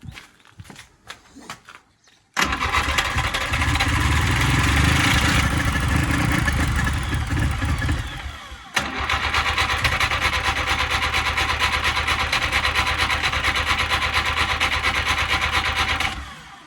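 A Pony 820D tractor's diesel engine, fitted with a 12-volt glow plug, cranks after a few faint knocks, then catches and runs at a loud, steady chugging idle, briefly dipping before settling back into a rough, continuous run.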